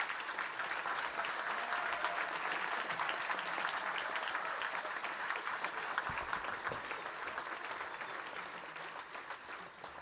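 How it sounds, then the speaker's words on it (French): At a diploma ceremony, an audience gives graduates a long, dense, even round of applause. The clapping fills the hall at moderate volume and runs steadily without pause. "Encore un tonnerre d'applaudissements pour nos heureux récipiendaires."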